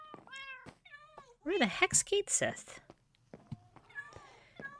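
Cats in a video game mansion meow several times, short distinct calls, while a person talks over them in the middle.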